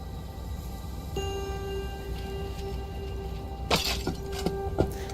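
Glass shattering in the video game Life Makeover, a sudden crash with a short scatter of tinkling fragments over a steady ambient background, then a couple of brief clinks.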